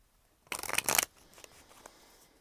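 A brief riffle of tarot cards being shuffled, a quick papery burst lasting about half a second, followed by faint rustling in a quiet room.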